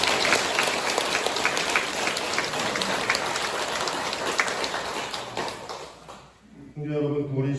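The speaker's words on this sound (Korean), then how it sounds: "오늘 함께 해주신 우리 신부님 환영의 박수 부탁드립니다" Sustained applause from a church congregation welcoming a visiting priest at a Catholic parish's 50th-anniversary Mass, dense and steady for several seconds before thinning out, with a few scattered voices mixed in.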